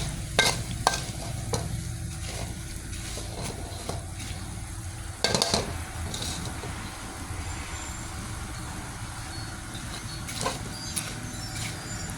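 Garlic frying low and slow in a pan of oil, meant for noodle soup, with a constant crackling sizzle and repeated sharp clicks of stirring, including one louder scrape; no talking.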